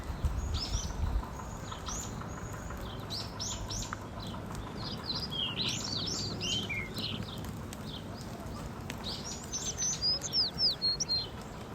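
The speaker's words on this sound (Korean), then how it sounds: "새소리도 너무 좋아요." Birds chirp and sing in a forest after rain, with scattered high calls at a moderate distance over a quiet, damp background and soft patter.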